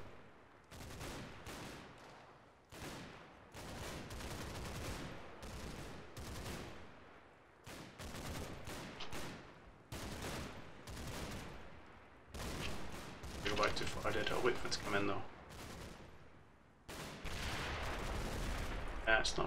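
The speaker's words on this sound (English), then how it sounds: "Definitely sounds like shells rather than mortar fire." Artillery shells and gunfire in the WWII strategy game Combat Mission: Battle for Normandy, heard as repeated loud bursts of booms and rattling fire that come in dense clusters with short gaps between them.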